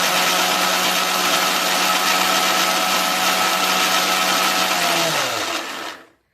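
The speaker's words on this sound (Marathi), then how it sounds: "बाजरी डाळ हे सर्व आपल्याला बारीक करायचं आहे" A mixer grinder runs steadily at high speed, grinding millet and lentils into a fine flour. The loud, even whine holds throughout and then winds down near the end as the motor stops.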